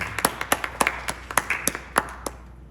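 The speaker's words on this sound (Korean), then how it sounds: "하나님 아버지께 감사의 박수 한번 같이 올려드릴까요?" A congregation at a university Wednesday evening worship service clapping in thanks, a short burst of distinct, fairly sparse handclaps in an uneven rhythm that trails off after about two seconds.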